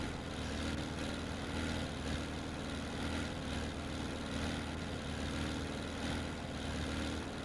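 A heavy truck engine with an oil warning light on, idling roughly in Farming Simulator 17 during forestry work, gives a steady low rumble that holds at an even level throughout with no talking.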